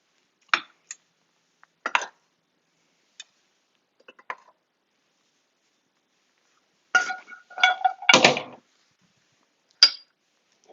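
Serving plate set down and shifted on a table while plating baked octopus arm, giving a few sharp ceramic clinks and taps spaced across the moment, with a louder cluster of knocks near the end.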